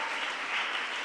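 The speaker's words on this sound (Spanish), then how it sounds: "Dele ese aplauso al Señor." Brief burst of church congregation clapping during a Spanish-language sermon, a dense, even wash of hands at moderate distance with no voices over it.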